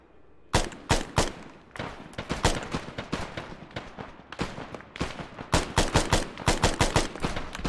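Sharp, loud bursts of rifle and machine-gun fire in Arma 3 co-op combat, heard as rapid close cracks in irregular volleys and clusters, with no voices between the shots.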